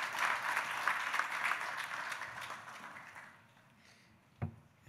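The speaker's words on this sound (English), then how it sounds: "can we welcome with a warm round of applause" Moderate applause from an audience at a Ghana National Communications Authority event, welcoming the Minister for Communications, fades out after about three seconds, followed by quiet and a single sharp knock.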